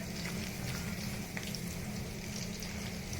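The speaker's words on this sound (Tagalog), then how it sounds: "Tapos ipi-fry natin ulit." Pork spare ribs fry in hot oil for Peking pork ribs, giving a steady, close sizzle and crackle with no pause.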